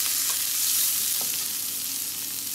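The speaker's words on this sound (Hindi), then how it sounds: "इसमें हम डाल देंगे हमारे ये सारे सब्जियां और इसको हल्का सा सौते करके निकाल लेंगे।" Vegetables sautéing in hot oil in a pan give a steady, loud sizzle and crackle throughout, with no voices.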